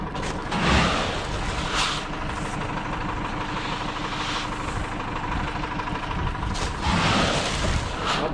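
A farm tractor working a soybean planting field, a steady mechanical drone with rattling and creaking parts and periodic swells in intensity, running continuously with no talk.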